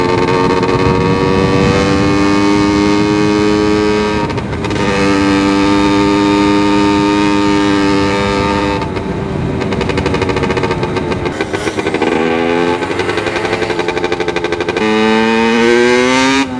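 A motorcycle with its exhaust silencer removed revs hard and close, its loud, raw, crackling engine note rising and falling through several long pulls with brief dips between them.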